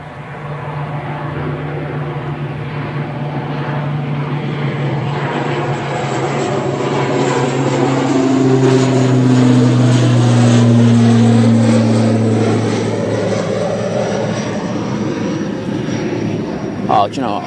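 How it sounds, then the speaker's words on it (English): An ATR turboprop airliner climbs steeply away after takeoff, its propeller drone loud and close with a steady tonal hum and Doppler sweeps as it passes. Someone talks over it. "that ATR is up like a shot"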